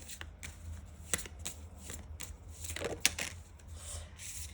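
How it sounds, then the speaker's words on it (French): Tarot-style advice cards are shuffled and drawn by hand, a quiet and close series of soft riffling and sliding strokes with a few sharper snaps. "Je vais aller te tirer quand même une petite carte conseil par rapport à ton interrogation"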